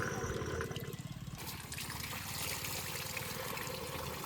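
Water pours and gurgles steadily into a tractor tyre under a low mechanical pumping hum, the flow sounding splashy and continuous.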